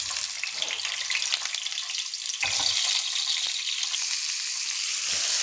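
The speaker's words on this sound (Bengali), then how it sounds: "পটলগুলো যে পর্যন্ত ব্রাউন কালার চলে না আসবে সেই পর্যন্ত এমন করে ভাজতেই থাকবো।" Pointed gourd (potol) pieces coated in turmeric and salt deep-frying in hot oil, a dense steady sizzle and crackle throughout with occasional soft stirring bumps, close and continuous.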